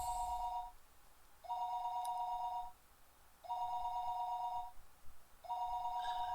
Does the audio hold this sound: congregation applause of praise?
no